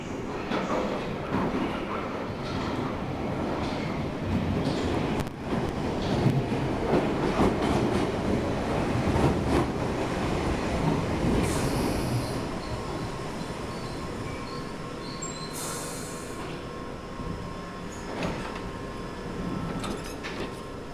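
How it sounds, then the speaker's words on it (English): A London Underground 1973 Stock Piccadilly line train pulls into a station bound for Manor House, a steady rumble and rattle of wheels filling the platform, with brief hiss and chime toward the end. "And here comes our 73 stock to take us to Manor House."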